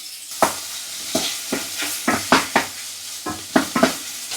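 Chopped bacon and onions fry in a pan, a continuous sizzle punctuated by roughly a dozen sharp scraping and tapping strokes of a utensil against the pan in an uneven stirring rhythm.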